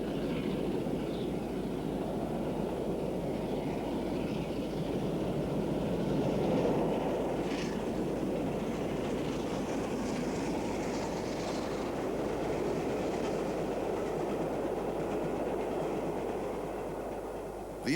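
LNER steam locomotive working hard on a mainline climb at speed, a dense continuous rumble and roar with rail noise, steady and moderately distant, with no talking.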